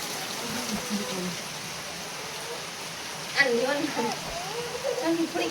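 Metal lid clanks as it is lifted off a pot of potato and pea curry, with a steady bubbling simmer and a second light clink of metal.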